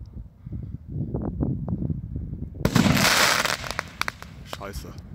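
Low muffled voices give way to a sudden loud burst and crackling spray of a homemade cylinder shell firework exploding nearby, fading into scattered pops.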